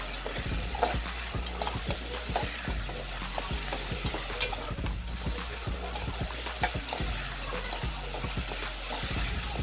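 Sautéed monggo (mung beans) with vegetables, including fresh ampalaya leaves, stirred in a pan: steady close scraping and clacking strokes over a continuous low sizzle, no talking.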